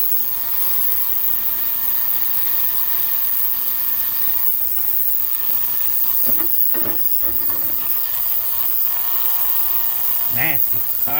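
A heated vibrating parts cleaner running loudly in a workshop during ATV repair, a constant buzzing drone with hiss and rattling bursts toward the end, close and continuous.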